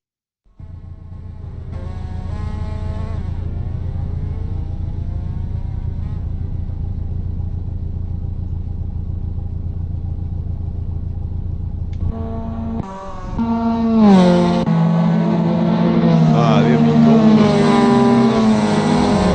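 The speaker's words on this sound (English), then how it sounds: "We've got cars up and running" Mazda MX-5 race cars at Lime Rock Park in a racing game: a loud, steady engine drone at idle, then sharper revving and shifting as several engines climb together, with a brief spoken remark.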